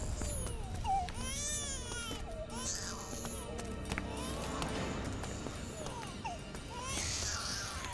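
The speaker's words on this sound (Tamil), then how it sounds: "இது குழந்தை அழுகிற சவுண்ட் கேக்குதுடா." A baby's wailing cries rise from inside a well in a Tamil film scene, coming in repeated bursts over steady background noise.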